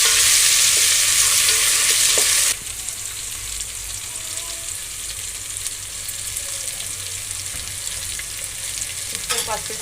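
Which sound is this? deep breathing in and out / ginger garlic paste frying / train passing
ginger garlic paste frying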